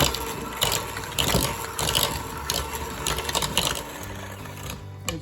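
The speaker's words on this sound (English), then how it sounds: "Got my mixer out here." An electric mixer churns apple cinnamon bread batter with a busy mechanical whir and rattling clatter from the beaters, steady and close throughout.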